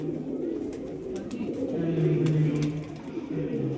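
Pigeons of a prized rooftop breed, a hen and a cock shown by hand, give low rolling coos that swell and fade over several seconds, with faint background noise and no clear talk.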